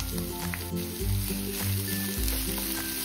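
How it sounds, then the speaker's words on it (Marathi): Capsicum, onion and cabbage sauté in a pan with a continuous sizzle, while a low humming drone runs underneath and steps in pitch from time to time, and a thin high whine sits above. "आता ना साधारणतः फक्त 2 मिनिटांसाठी त्या भाज्या आपल्याला परतून घ्यायच्यात।"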